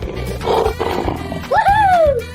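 A lion's roar rises loud and close, ending in a long, bending, sustained tone, with excited voices and splashing-like background noise around it.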